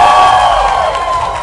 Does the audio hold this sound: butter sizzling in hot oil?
no